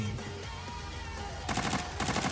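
Bursts of automatic gunfire from a bot shooting at players in the video game Arena Breakout, rapid repeated shots at moderate distance, with a louder volley in the final second.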